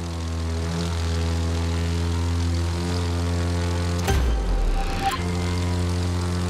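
A stunt plane's propeller engine drones steadily in The Crew 2, a loud harmonic hum with a brief rushing swell and whoosh near the end, no talking.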